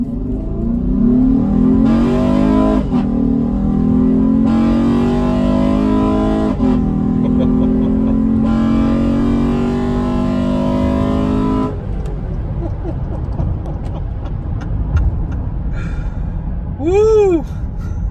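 2019 Honda Pilot with an AEM intake revving hard in several loud bursts, the engine rising and falling between pulls before settling to a rougher idle with brief chirpy noises near the end.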